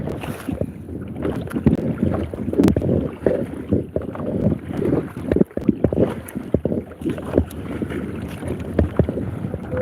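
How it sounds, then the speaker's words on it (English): Someone paddles a canoe or kayak on a windy lake, with rhythmic dips and splashes of the paddle. Gusting wind buffets the microphone throughout and there is no talk. "I have to paddle and it just turns me around"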